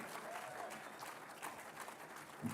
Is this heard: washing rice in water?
no